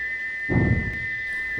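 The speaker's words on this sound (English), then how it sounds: "He whistled as he crossed the points, he whistled on the siding" A single sustained, piercing steam engine whistle holds steady throughout, with a brief low rumbling burst partway through.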